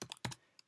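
A short burst of a few quick keystrokes on a computer keyboard, close and fairly quiet, then a faint final tap.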